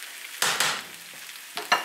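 Spam and potatoes frying in a pan, a low steady sizzle broken by a few louder bursts of spatter or stirring, close and alone without talk.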